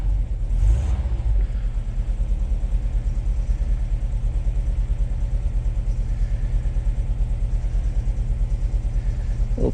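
A car engine idles steadily after a cold start, a close, continuous low rumble with a brief louder blip near the start and no talk.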